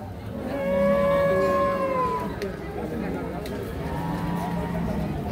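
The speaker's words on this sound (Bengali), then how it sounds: "আমরা উন্নত জাতের হলস্টিন ফ্রিজিয়ান গাভী বাছুর যেখানে কেনাবেচা চলছে সে জায়গায় রয়েছি" Holstein Friesian cows and calves at a busy rural cattle market in Parbatipur, Dinajpur, let out one long loud moo followed by a softer, shorter one, over a constant murmur of crowd chatter.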